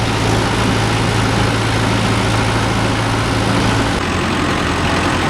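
A Mahindra Yuvo Tech Plus 585 4WD tractor, set up with a 9-point cultivator, runs with a loud, steady diesel drone close by. Its low engine note shifts slightly near the end, and no one speaks.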